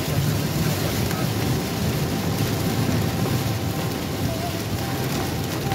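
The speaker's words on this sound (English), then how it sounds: "Well, we got the thunderstorm." Thunderstorm downpour heard from inside a moving car in western New York, a continuous loud wash of rain drumming on the vehicle with low rumbling beneath, steady for several seconds.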